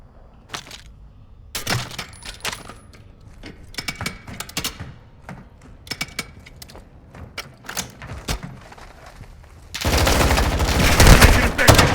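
Call of Duty: Modern Warfare II gunfire in a staircase fight: scattered sharp shots and quick bursts, then a loud, sustained roar of heavy firing toward the end.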